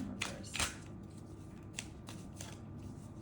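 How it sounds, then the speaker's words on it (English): A deck of tarot cards being shuffled by hand, giving soft papery riffles and snaps in a few short bursts over a quiet background. "A few more shuffles here."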